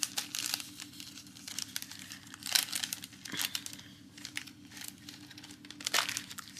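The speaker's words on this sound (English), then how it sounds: "my tape runner and just put a little bit of tape across the top" Crackly crinkling and short tearing bursts of a tape runner laying adhesive tape across the top of paper for a DIY ornament craft, close and moderately loud, with a few sharper rips over a faint low hum.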